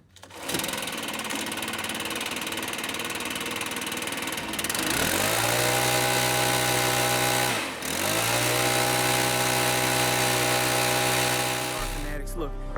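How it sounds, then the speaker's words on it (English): A small gas leaf blower engine cranks and catches, then runs with a loud, steady buzzing drone that dips briefly in pitch before holding and cutting off near the end, close up. "Follow your instruction manual on how to crank up your particular blower"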